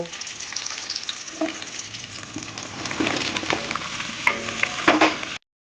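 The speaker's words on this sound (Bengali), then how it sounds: "এই শাকটা রান্না করার জন্য সবজিগুলো তেলের উপর দিয়ে হালকা করে একটু ভেজে নেব" Chopped vegetables for a dish of greens lightly frying in oil in a home kitchen, with a continuous soft sizzle that swells toward the end, punctuated by spatula stirring and a few sharper crackles.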